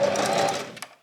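A sewing machine stitching a short forward run then backstitching, a fast steady mechanical whir that cuts off, followed by brief clicks.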